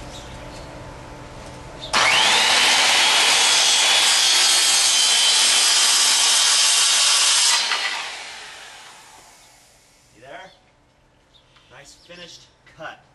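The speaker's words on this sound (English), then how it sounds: "I'm just going to push the saw a little bit quicker right at the end so I don't get it splintered off." A Skilsaw cuts through wood planking in one loud, steady burst of about six seconds, the blade winding down afterward, followed by faint handling knocks and shuffles.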